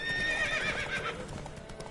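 A horse neighs and gallops at the start of a horse race in a fantasy video game, a shrill whinny over rapid hoofbeats, fairly close and alone.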